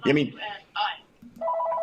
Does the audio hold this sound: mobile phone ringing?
yes